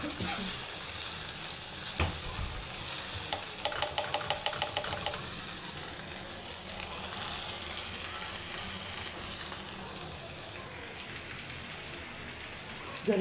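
Green chillies with salt fry in a hot pan in a home kitchen, giving a faint, steady sizzle with a few light clinks of a utensil along the way.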